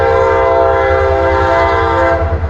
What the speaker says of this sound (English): there goes the CSX freight train